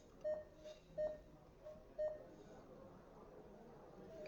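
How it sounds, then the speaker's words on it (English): Three short, evenly spaced electronic start beeps about one second apart, each a clean pure tone, sound over faint background hum at the start of an RC car race with Team Associated B6 buggies. "3 beeps and let's go."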